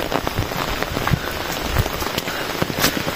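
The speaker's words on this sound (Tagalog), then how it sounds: "Kala ko hihinto na yung ulan pagkatapos ng bagyong Inting." Rain after a typhoon falls steadily, pattering close on a hard surface with scattered louder drops and no voices.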